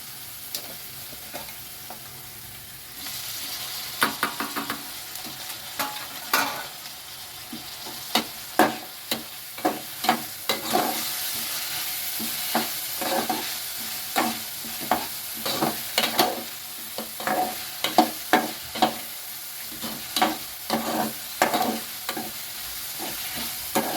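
Chopped tomatoes fry in a hot pan for egg noodles, a steady sizzle broken by repeated scraping clicks of a spoon stirring through them, close and fairly loud, with no voices.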